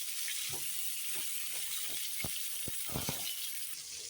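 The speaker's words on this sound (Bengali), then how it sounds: "এদিকে দেখো তেল গরম হয়ে গেছে আমি প্রথমে আলুগুলো ভেজে নিই" Potatoes fry in hot oil in a pan, giving a continuous close hiss with scattered crackles and a few sharper pops.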